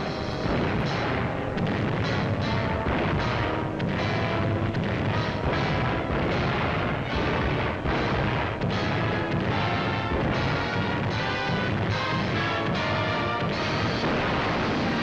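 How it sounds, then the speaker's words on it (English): A constant WWII bombing barrage from a wartime film, dense booms and bursts of artillery fire rolling on without pause, loud and continuous throughout. "just a constant barrage"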